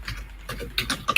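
A loud computer keyboard clatters in a quick, irregular run of light clicks at close range during a courtroom hearing, heard alone without talk.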